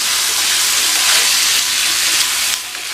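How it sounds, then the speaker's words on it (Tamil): Butter beans and boiled, cut potatoes are stirred in a hot pan, giving a steady close sizzling hiss that stays loud throughout with slight shifts as the food is turned. "பட்டர் பீன்ஸை சேர்த்துடலாம். வேக வச்சு கட் பண்ண உருளைக்கிழங்கையும் சேர்த்துடலாம். சேர்த்துட்டு நல்லா பிரட்டி விட்டுருங்க."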